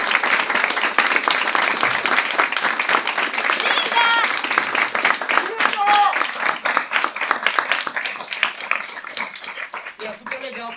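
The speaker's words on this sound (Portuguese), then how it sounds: "eu gostaria de chamá-la aqui para receber os aplausos" A theatre audience applauds the show's director, Júlia, at the end of a performance. The clapping is loud, close and sustained, with scattered voices and brief cheers rising over it before it tapers near the end.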